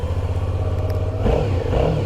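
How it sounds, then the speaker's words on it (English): A Suzuki V-Strom 650 with a 645cc V-twin idles close by, its exhaust giving a steady low, throbbing purr that swells slightly as it is blipped. "Oh, it's got a nice purr to the exhaust."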